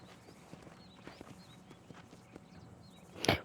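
Horses' hooves clip-clop over ground in the Red Dead Redemption western video game, a moderately close, uneven walking beat of soft thuds with faint whistles above, ending in a sharper burst of noise, no speech.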